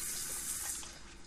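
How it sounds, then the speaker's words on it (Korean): A shower runs steadily in The Sims 4, a broad even hiss of water that tapers off slightly at the end, with no talk over it. "빠른 샤워 한 번 더 해."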